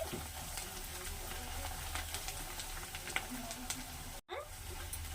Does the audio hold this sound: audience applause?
no